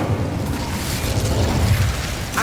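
Incendio fire spell cast in Hogwarts Legacy, a dense, steady roaring burst of flame and rumble filling the whole moment at high loudness, no voices.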